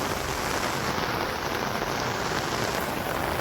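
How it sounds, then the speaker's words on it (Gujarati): Steady rain pours onto an open farm field in a village, a dense, even hiss of drops throughout with no voices. "અત્યારે હજી વરસાદ છે ને ભાઈ ચાલુ જ થયો છે."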